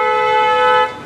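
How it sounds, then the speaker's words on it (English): A loud, sustained car horn honks on a street in Naples, Florida, held for nearly a second before cutting off abruptly. "you see they honk horns here too"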